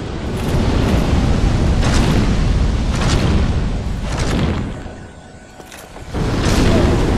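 In Dark Souls, in the lava area of Lost Izalith, a fire attack gives off loud, continuous roaring blasts and booms that swell repeatedly, with a brief lull before the roar surges back.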